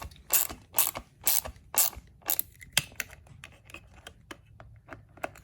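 Screws being tightened on a Porsche Boxster 986 steering wheel airbag, a run of rapid ratchet clicks in loud bursts, then lighter single clicks trailing off, close up with no talking.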